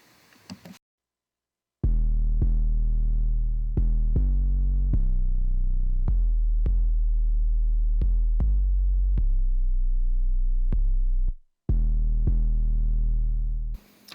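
Deep 808 bass samples, including the Spins 808, play in FL Studio as a run of long booming low notes with sharp attacks, one after another for about ten seconds, loud with no talking over them.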